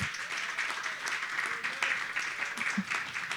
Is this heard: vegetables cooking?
no